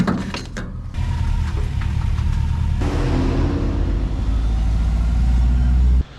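Subaru car engine running steadily after a tune, a loud continuous low rumble filling the whole stretch with a brief shift partway through, then cutting off at the end.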